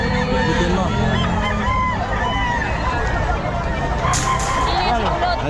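Gilmore Hatch gamefowl chickens at a busy pet market, a dense steady din of clucking and fowl calls blended with crowd babble and people talking close by.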